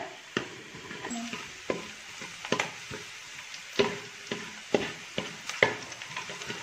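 Kottayam-style beef roast masala with green chillies sautéing in a pan, with repeated spatula strokes and scrapes over a steady close sizzle and no voices.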